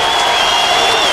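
A Mr Olympia 2002 bodybuilding crowd roars for Gunter Schlierkampf, a loud, dense, continuous wall of cheering with a high whistle running through it.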